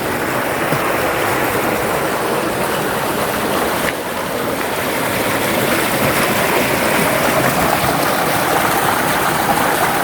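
A loud, steady rush of water gushing from a pump outlet, constant and close, with no talking.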